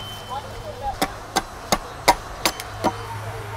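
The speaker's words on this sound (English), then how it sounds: "This is my side axe. It allows to clean the timber off quite easily." A side axe trims knots off sweet chestnut timber in a run of about seven crisp, evenly spaced chopping strikes over a quiet background, moderately close, with no talking.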